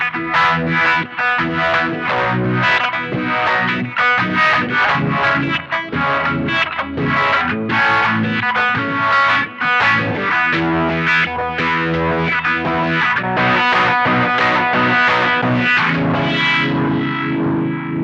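An electric guitar played through a harmonic tremolo effect, chords and notes pulsing with a wobbling, throbbing modulation, loud and continuous throughout.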